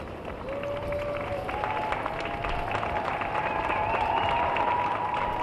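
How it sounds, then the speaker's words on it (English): A large outdoor crowd applauds at the Biden and Harris presidential inauguration, a steady wash of clapping from a distance with a faint voice drifting through it. "We can hear the applause"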